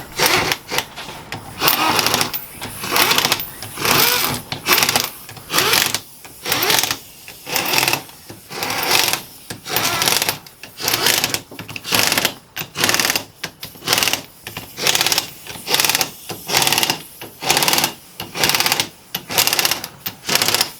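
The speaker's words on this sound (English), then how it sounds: "I'm just using the impact to speed up the process" Impact wrench tightening bolts while installing 4.88 ring and pinion gears, firing in repeated short rattling bursts with brief pauses between them, loud and close throughout with no talking.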